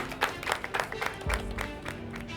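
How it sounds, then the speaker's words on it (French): A kitchen team applauds after a cooking workshop, a short burst of close, lively clapping from a small group. "Donc on peut s'applaudir"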